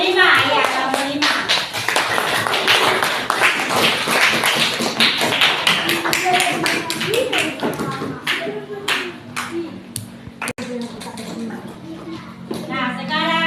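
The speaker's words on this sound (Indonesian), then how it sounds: "Tepuk tangan untuk kelompok 4" Children in a classroom clap together for a group of classmates, a dense sustained burst of hand claps that thins out toward the end, with young voices chattering over it.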